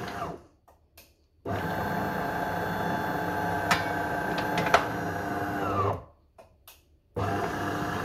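A Delonghi coffee machine starts its descaling cycle with a steady mechanical pumping hum that cuts in and out, broken by brief clicks, close by and with no talk.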